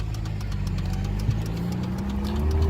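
The engine of a 1990 BMW E30 runs steadily on a test drive, a continuous low hum and drone with a slowly rising pitch. No voices are heard.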